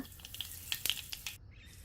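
Mustard seeds crackle in two large spoons of hot oil in a kadhai while a tempering is made for dhokla, giving soft scattered pops over a faint sizzle, quiet and brief.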